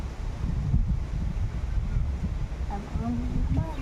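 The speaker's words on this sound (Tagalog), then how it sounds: "Lakas ang hangin, oh. Malamig." Strong, cold wind buffets the microphone outdoors with heavy low rumbling gusts, while people talk briefly underneath near the end.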